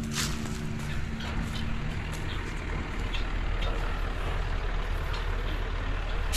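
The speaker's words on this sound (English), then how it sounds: "Ready for the next truck coming in." A heavy truck engine rumbling steadily nearby as it arrives to deliver wood shavings, with a low tonal drone at first and no talk.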